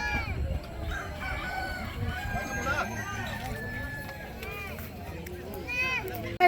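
Roosters crow repeatedly at a birthday gathering by the river in Latag, Nasugbu, with several drawn-out calls over clucking and other fowl noise while people talk nearby.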